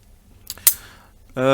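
Honest electric lighter in zinc alloy with chrome and blue finish, lit by passing a finger through its light sensor: two quick sharp clicks, then a steady close buzzing hum from the ignition.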